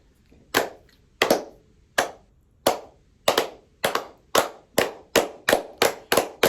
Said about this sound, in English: We start out by clapping, and we'll get faster